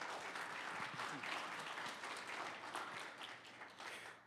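A seminar audience at a church creation event claps in sustained, even applause, heard from a distance and fairly quiet throughout.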